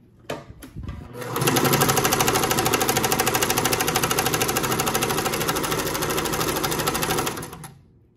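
A Janome sewing machine stitches at its maximum zigzag width with the pedal pressed, a loud, fast, even mechanical rattle that spins up, runs steadily for about six seconds, then winds down.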